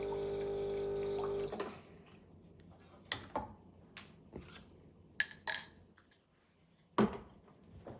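A Breville Barista Express BES870 espresso machine pumps water in a steady, loud rush for about a second and a half, then cuts off, leaving quiet drips and a few sharp clicks.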